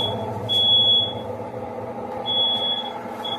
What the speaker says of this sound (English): You know my smoke alarm works.